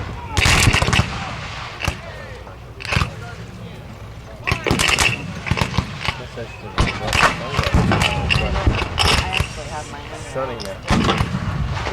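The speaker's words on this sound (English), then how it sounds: "Union infantry is firing by company." Union infantry at a Gettysburg battle reenactment firing musket volleys by company, loud booming cracks followed by ragged scattered shots over outdoor crowd noise and a narrating voice.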